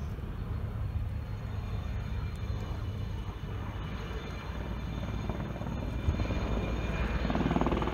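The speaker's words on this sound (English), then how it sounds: "The helicopter is now displaying its maneuver capabilities" A low-flying Indian Army helicopter roars steadily and loudly overhead during a maneuver display at the Deolali artillery center, Nashik, its rotor drone constant and close throughout with no talk.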